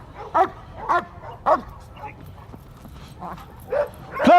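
An LAPD K-9 police dog barks in short sharp bursts, about five or six spaced barks in quick sequence, close and moderately loud, with faint background noise between.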